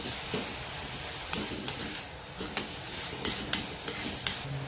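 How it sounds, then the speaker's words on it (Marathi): Melting jaggery stirred with a spoon in a pan: steady scraping and stirring with repeated light taps of the spoon against the pan at irregular intervals, close and fairly quiet, no talking. "गूळ छान वितळला आता त्याला मिक्स करून घेऊया"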